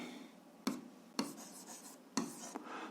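Pen writing an algebra equation on paper: quiet, steady scratchy rubbing broken by a few sharp taps as strokes begin, close by and with no talking.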